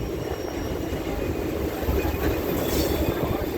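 The Patliputra Express running between Sonpur and Hajipur gives a steady, moderately loud rumble of wheels on rail, heard from on board, with a constant low roar and faint rhythmic rattling.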